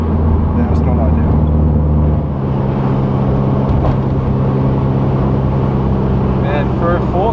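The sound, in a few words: 4-cylinder car engine chugging along in sixth gear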